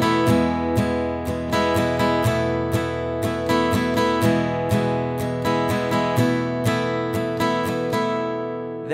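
Guitar strumming a song's pattern, one pass per chord, a steady even rhythm of bright, close strums with regular accents, played alone.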